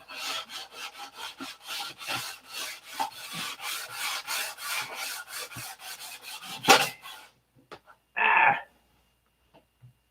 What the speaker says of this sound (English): I just pulled up the fillet with the edge of the sandpaper